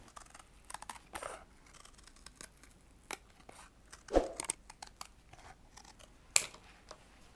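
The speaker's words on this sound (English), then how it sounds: "And then I'm going to cut this out." Scissors cutting a traced circle out of a piece of cardboard, heard as a run of sparse, irregular snips and crunches at close range in a quiet room, with two sharper cuts standing out.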